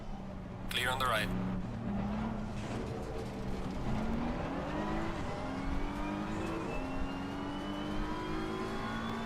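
Engines of race cars at Suzuka in a racing video game, a steady droning whine with rising and shifting pitch as cars accelerate, under a brief burst of a higher electronic sound early on.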